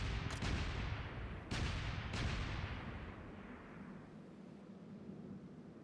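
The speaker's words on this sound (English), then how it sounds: "Those cannons went off." Cannons firing in the video game Like a Dragon: Ishin!, several heavy booms in quick succession at the start, then a long rumbling roar that slowly fades away.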